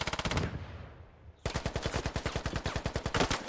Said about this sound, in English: And he gets some good shots off.